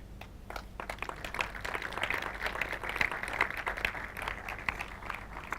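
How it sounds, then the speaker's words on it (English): Conference audience applauding as the next speaker takes the stage, a steady wash of many hands clapping throughout, moderately loud and sustained without voices. "please give a warm round of applause for Heather Van Cura"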